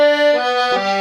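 A DG melodeon sounds a sustained chord with extra octave-lower reeds engaged, giving a thick, buzzy reedy tone that shifts to a new chord near the end, loud and close with no voices.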